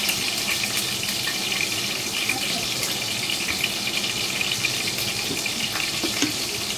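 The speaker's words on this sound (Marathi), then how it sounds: "आता ही मिरची आपण छान भाजून घेऊया." Green chilies fry in hot oil in a pan, a dense, even crackling sizzle that holds steady throughout at close range.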